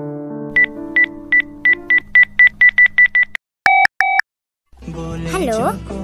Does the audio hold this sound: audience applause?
no